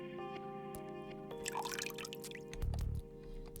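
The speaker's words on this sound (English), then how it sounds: "The sounds of running faucet can be heard from the bathroom." A bathroom faucet in the game Nikke runs and drips faintly, with light trickling and small splashes over a quiet background hum.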